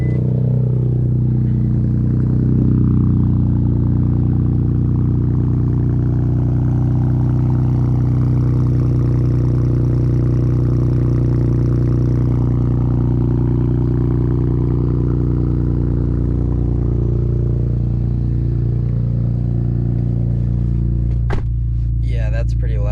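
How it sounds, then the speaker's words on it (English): A car's engine cold-starts through a new aftermarket exhaust and settles into a loud, steady rumbling idle close by, with a sharp clatter near the end. "I figured I'd save a nice little cold start for you guys with the new exhaust"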